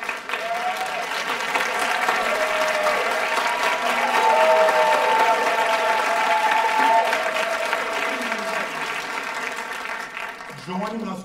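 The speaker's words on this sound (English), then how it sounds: "let's applaud them." Audience applause for several singers making their debut at a Handel's Messiah concert, a steady broad clapping wash lasting about ten seconds before fading out.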